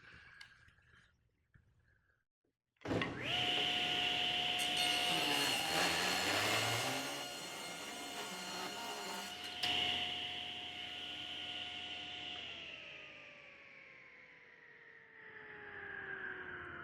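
A table saw fitted with an Infinity full-kerf 10-inch blade spins up abruptly, then slices through a board with a loud, steady whine and rasp before winding down.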